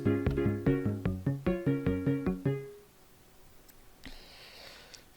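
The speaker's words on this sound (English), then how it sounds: "your doorbell should now sound like this" Minecraft note block doorbell melody, a rapid run of plucked, bell-like tones in an even rhythm for about two and a half seconds, then fading into quiet room noise.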